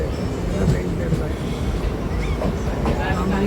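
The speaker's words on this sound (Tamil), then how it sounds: "அதாவது நம்ம சப்ஜெக்ட் எக்ஸ்பிரஸ் எம்டி ரேக் தான் இந்த ட்ரெயின்." Empty express rake running as a circular train, a steady rumble of rolling wagons with faint rhythmic rail clatter and squeals, heard alongside a speaking voice.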